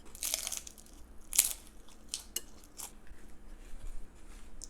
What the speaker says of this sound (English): now I get to eat my tacos